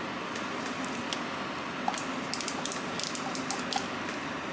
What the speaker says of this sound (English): find my screwdriver and loosen up this pivot screw